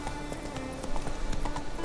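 Roach, a horse in The Witcher 3, clip-clops along in a steady rhythmic hoofbeat of moderate loudness, close by and without talk over it.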